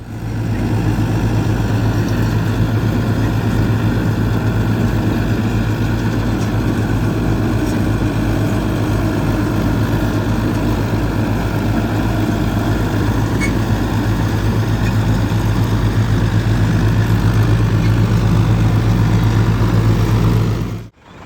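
A Mahindra tractor engine runs at a steady, loud, rumbling drone for the whole stretch, close by, with no pauses, then cuts off abruptly at the end.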